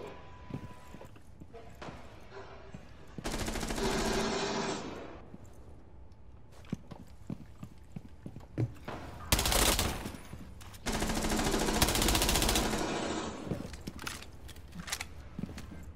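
Video game gunfire, with bursts of rapid automatic fire and scattered single shots, some loud and close, others fainter, separated by quieter stretches with occasional footsteps.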